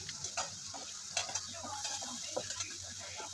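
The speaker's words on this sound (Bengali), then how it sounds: "তেলের মধ্যে কিছুক্ষণ নাড়িয়ে চাড়িয়ে নেব, যাতে করে মশলার কাঁচা গন্ধটা কেটে যায়" Tomato, turmeric and chili powder are stirred in hot oil, giving a soft, low sizzle with faint scattered spatula clicks and scrapes, no voices.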